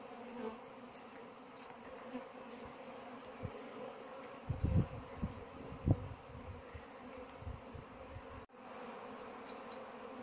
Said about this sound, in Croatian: Pčele se obradovale proljetnom suncu.